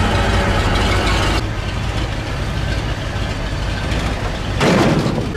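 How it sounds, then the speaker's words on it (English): Dump truck with a mechanical PTO driving a pump shaft, a loud steady mechanical drone of the running engine and spinning driveline heard up close, with a slight surge near the end. "There you can see that drive shaft spinning on that pump."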